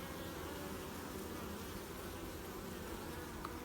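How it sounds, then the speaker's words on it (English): A steady, dense buzzing of many honey bees at a hive entrance in early spring, continuous and fairly soft, like a busy swarm close by, with no voices. "you can see these bees are quite busy right now"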